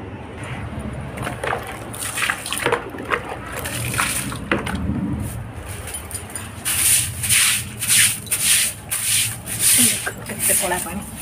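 Wet scrubbing of a dusty balcony floor with water, a steady rubbing and sloshing that turns into a run of rhythmic, louder brush strokes in the second half, close by.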